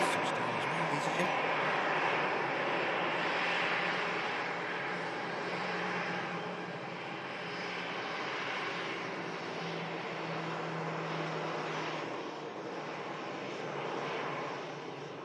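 A Lauda airliner's engines rumble and whine steadily as it taxis at Manchester Airport in stormy wind, a broad continuous roar with wind buffeting the microphone and a voice talking over it.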